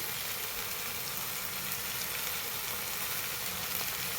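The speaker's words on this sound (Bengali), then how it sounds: "এবার ভালো করে কষিয়ে নেব।" A pan of fish head masala with salt sizzles and fries steadily: a dense, loud, continuous crackle with no talking over it.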